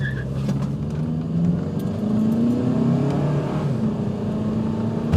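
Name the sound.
car launching and accelerating after brake torquing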